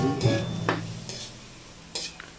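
An egg sautéed in a pan with a little sisig, a few soft sizzles and scraping stirs coming in short bursts, close and fairly quiet with no talk.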